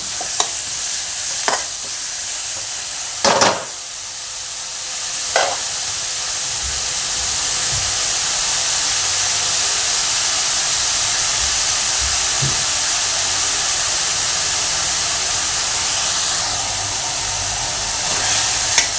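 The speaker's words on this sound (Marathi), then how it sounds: "कांदा आपला थोडासा भाजून झालेला आहे।" A large onion frying in oil in a pan, a steady loud sizzle and hiss throughout with a few brief stirring scrapes early on.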